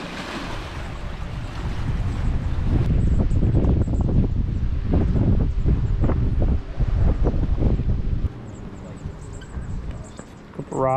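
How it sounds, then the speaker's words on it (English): Strong wind gusts buffet the microphone at a campsite on a roughly 40-foot cliff above whitecapped water in Temagami, a loud continuous roar with bursts of wind noise throughout. "It's pretty windy over here"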